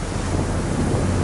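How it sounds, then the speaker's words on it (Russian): Ocean waves churn around a rocking boat near Milford Sound, New Zealand, a steady, rushing roar mixed with heavy wind buffeting, with no voices. "Здесь так уже ощутимо качает. Волны."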